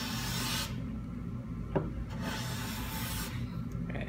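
A hand plane takes shavings along a wooden board, making close, breathy rasping strokes with brief pauses between passes and a small knock in the middle.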